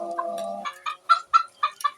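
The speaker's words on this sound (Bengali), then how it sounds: "আমার একটা কাদারনাথ মুরগি আছে" A Kadaknath chicken on a small poultry farm lets out a drawn-out call, then a run of five or six sharp clucks in a quick, uneven rhythm, close and clear with no voices.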